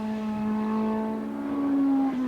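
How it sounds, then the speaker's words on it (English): Volkswagen Golf engine in a Formula 2 race car at Eastern Creek, 1991, revving hard and climbing steadily in pitch as it accelerates uphill, loud and continuous with no talking. "got the Volkswagen Golf engine really singing as he heads up towards Corporate Hill"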